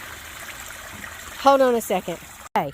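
Homemade banana peel potassium fertilizer poured through a laundry basket used as a strainer into a plastic tote, a soft, steady liquid trickle in the background while a voice speaks over it.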